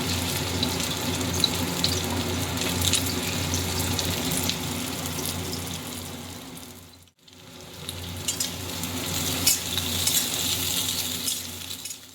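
Carrots frying in a pan for a Bengali mixed-vegetable curry give a steady, close sizzle with faint stirring, broken by a brief hush near the middle before the crackle resumes.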